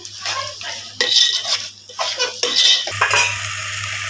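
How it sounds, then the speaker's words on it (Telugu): Mutton masala being stirred in a pan over high flame for a mutton potato curry, with a spoon scraping and clinking against the metal in uneven strokes, close and fairly loud, with a low steady hum underneath. "మంట హెవీగా పెట్టి బాగా కలపండి"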